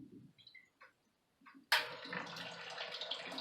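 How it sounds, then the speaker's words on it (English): Water back-siphoning into a drain from a whole house water filter as it is loosened, a sudden steady rushing gurgle that starts partway through after near silence and continues close and fairly loud. "that's back siphoning into a drain I have"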